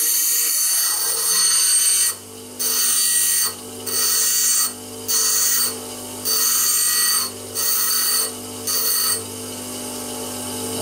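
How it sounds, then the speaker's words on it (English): A steel piece is ground or filed sharp in a workshop, with about seven rhythmic rasping strokes separated by brief pauses, close and fairly loud, with no talking. "Now sharpen the steel."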